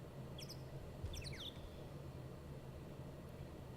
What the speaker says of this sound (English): Little bird sounds.